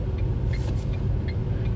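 A car climbs uphill at Wadi e Jinn with the accelerator pushed hard, producing a steady, loud, low engine drone and road rumble throughout.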